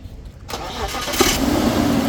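A BMW 528i with a no-start fault, recently fitted with new injectors and coils, cranks briefly after a moment of near quiet. Its engine then catches and settles into a steady, close idle.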